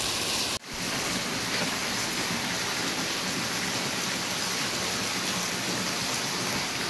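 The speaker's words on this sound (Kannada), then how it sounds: "ಮಳೆ ಬೇರೆ ತುಂಬ ಜೋರಾಗಿ ಬರ್ತಾ ಇದೆ" Heavy rain pours down steadily at a temple, a loud continuous hiss of water with a brief dip at the start.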